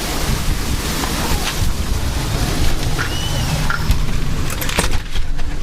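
Heavy rain and gusting wind during a severe thunderstorm under a low rotating wall cloud in Florissant, Missouri, a steady loud roar with strong wind buffeting on the microphone throughout.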